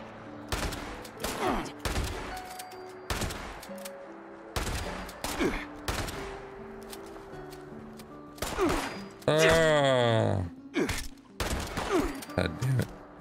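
Gunfire from a Fallout 76 game session: repeated loud bursts of shots spread across the span, mixed with game effects and sounds, with a player talking in between.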